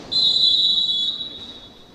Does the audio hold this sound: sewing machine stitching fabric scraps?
no